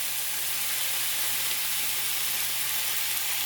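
Five bacon slices sizzle steadily in a hot pan, a continuous bright frying hiss holding even and close with no talk over it.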